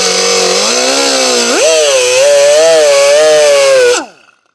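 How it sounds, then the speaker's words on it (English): A small rotary power tool whines loudly and close as it cuts a groove into a stud on a Briggs small engine. The pitch rises steadily under load for about four seconds before it cuts off abruptly. "I'm gonna cut a groove in that stud"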